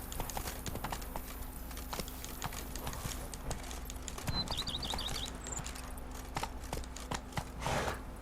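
Hooves clip-clopping steadily from a horse galloping in The Witcher 3: Wild Hunt, a brisk rhythmic beat over faint game ambience and a soft music drone.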